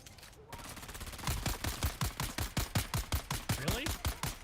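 SMG fire in the video game Dune Awakening: a long, rapid, evenly paced burst of loud close shots that runs steadily for several seconds after a brief quiet moment.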